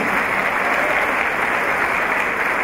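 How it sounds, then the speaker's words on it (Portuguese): Audience at a representatives' meeting giving a round of applause to a speaker, dense and even clapping sustained throughout. "palmas."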